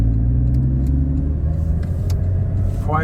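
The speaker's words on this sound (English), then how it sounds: "I just finished this exhaust. Sounds good. Sounds really good." A deep, steady exhaust rumble from a Porsche 981 Cayman/Boxster with an aftermarket Fi exhaust idles at close range, with a short rising rev near the end.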